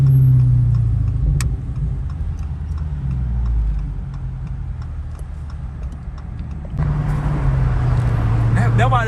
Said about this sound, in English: That's an LC 500.